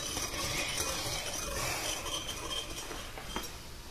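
A spoon stirs sugar into a hog nog mixture, giving soft scraping and light clinking against the container in a steady, close, fairly quiet run with no talking.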